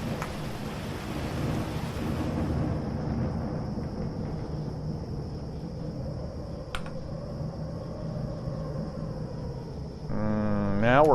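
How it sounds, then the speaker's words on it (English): Thunderstorm in the survival game Cataclysm DDA: a steady wash of rain and rolling thunder fills the whole stretch, with a brief sharp crack near the middle and a rising rumble at the end. "Lovely rainstorm or thunderstorm."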